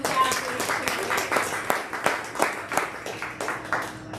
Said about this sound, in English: So let's give Sean a round of applause.